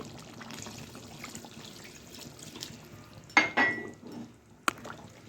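Water poured into a pot of chicken curry with potatoes, peas and tomato makes a brief splashing gush midway, then a single sharp clink like a lid, over quiet kitchen background.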